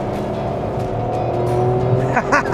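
Tata Altroz Racer with a 120 PS engine running steadily from inside the cabin, a continuous engine drone with rising harmonics near the end as it accelerates, loud and close.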